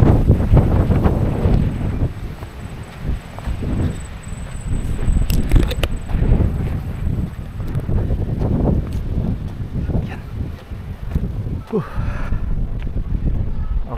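Strong wind buffets the microphone in gusty, rumbling waves at a hilltop view deck in Sitio Baag, Philippines, with occasional rustling and a brief voice underneath.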